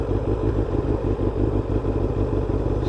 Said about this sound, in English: Sweet purr from that engine.